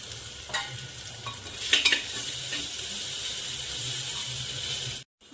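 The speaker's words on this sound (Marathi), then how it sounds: "आता हे लसूण आणि अद्रक पेस्ट आहे, हे पण चांगलं छान असं परतून घ्यायचं आहे" Garlic and ginger paste sauté with already fried onions, giving a close, steady sizzle with a few scraping strokes of a spoon near the start before the sound cuts off abruptly at the end.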